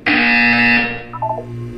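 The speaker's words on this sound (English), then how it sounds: "You will hear a buzzer." A loud, harsh buzzer sounds in the Portal 2 video game, one sustained blast that decays, followed by a few faint short tones.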